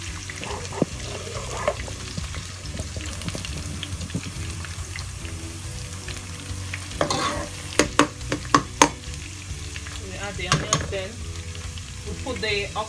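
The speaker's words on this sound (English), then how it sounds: "Then we'll add the okra. Just fry for about a minute." Shredded okra frying in a pot with onions for ogbono soup, a steady sizzle under repeated scraping and clinking of a spoon stirring against the pot, up close.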